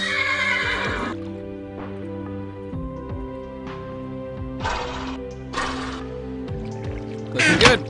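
A horse in Minecraft gives several neighs and whinnies, moderately loud bursts spaced across the stretch, over a steady background of game music and soft hoof steps.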